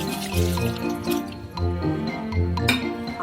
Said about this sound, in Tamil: தண்ணி ஊற்றி ஊற வச்சிடலாம் ஒரு 4 மணி நேரம்.